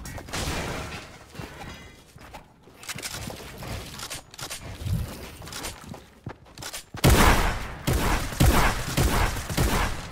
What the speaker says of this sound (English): I'm missing all my shots on this guy